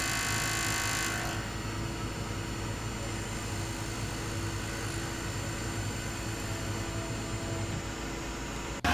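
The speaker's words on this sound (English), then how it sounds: "Now I'm just fly cutting off the back to the final dimension." A fly cutter on a milling machine skims the back of a metal part in the shop, a constant loud broadband whirring drone with a faint steady tone, running evenly until it cuts off abruptly at the end.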